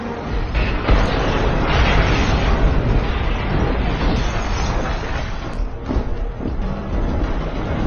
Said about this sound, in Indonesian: menimbulkan ledakan yang begitu hebat hingga menyebabkan hancurnya gedung tersebut